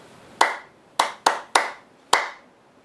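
Five sharp hand claps in a ta-ti-ti-ta-ta pattern, one long gap, two quick claps, then two evenly spaced ones, each crisp and close with a short ring, during a children's music rhythm lesson.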